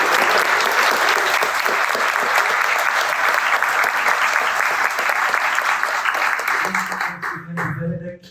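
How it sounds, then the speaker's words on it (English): A crowd gives a big round of applause for the speakers at a clean tech sustainability roundtable, loud sustained clapping that fades toward the end as a voice begins speaking underneath. "Let's have a big round of applause for our speakers"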